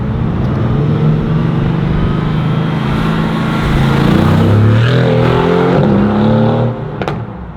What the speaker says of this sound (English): now we're gonna get some external audio of this thing as it passes by.